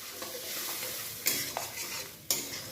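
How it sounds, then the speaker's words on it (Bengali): Pointed gourd being stirred with turmeric and salt in a pan, a soft sizzle under two sharp scrapes of the spoon against the metal. "হলুদ নুন দিয়ে এটাকে একটু জাস্ট একটু নাড়াচাড়া করে নিলাম।"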